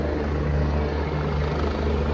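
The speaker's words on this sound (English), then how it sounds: "it sounds like that helicopter's taking off" A helicopter lifting off with its rotor blades spinning, a steady loud drone and heavy low throb that fill the whole stretch without a break.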